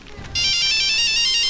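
A mobile phone ringtone cuts in after a brief quiet start and plays as a loud, steady, bright electronic tone with no voices over it.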